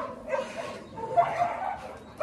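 Dogs kept at a rural mountain home give a few short yips and whimpering barks at close range, fairly quiet, with no other sound beneath.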